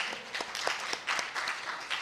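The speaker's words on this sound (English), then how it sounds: "Another round of applause." Audience at a talk on truth and tolerance gives a short burst of scattered applause, a handful of claps from a modest crowd, fairly faint and with no speech over it.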